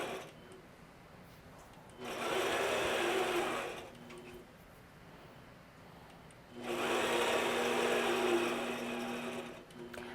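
A longarm quilting machine stitches a straight line along a ruler, running in two steady, close buzzing passes of a few seconds each with a quiet pause between them.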